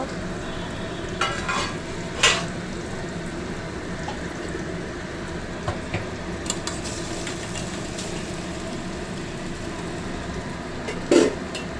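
Rice and egg frying in a pan and being stirred, a steady low sizzle with occasional scraping clicks of the spoon, close and moderately loud, with no talk.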